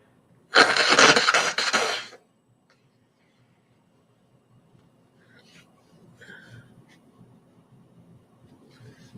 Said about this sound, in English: I just want to blow my nose a little bit.